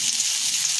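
Garlic sizzles in a hot pan, a steady bright crackle of frying that stays loud and even throughout the brief moment, with no talk over it.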